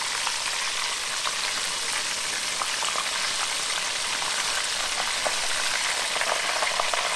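Pieces of Nashville hot chicken sizzle steadily in hot frying oil as they are turned, a dense, even crackle with small pops running throughout, close and fairly loud, with no voices.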